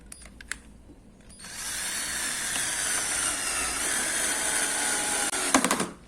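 A Ryu RCD 12V cordless drill drives a screw into roughly 4 cm thick wood, a steady whirring motor run lasting several seconds after a few clicks, ending with knocks and handling noise.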